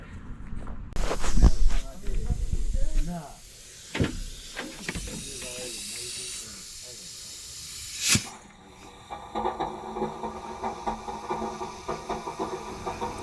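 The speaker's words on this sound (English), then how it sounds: "So now I got to put some air on here and see if it'll hold." Bursts of compressed air hiss sharply near by into a truck engine's oil rail, with clicks and a sudden loud blast, then a quieter steady hiss with faint deep gurgling.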